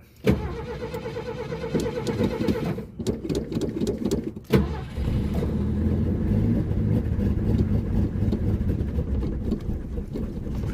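Classic Ford engine cranking on a cold start, the starter churning and the motor sputtering and catching unevenly with a brief stall before settling into a rough, loud, steady run up close.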